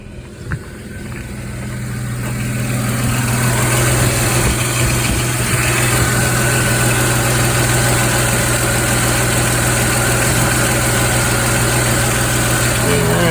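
Car engine idling steadily in a repair shop while the thermostat cycles, a constant low hum with a cooling fan whirring up and continuing loud and close throughout.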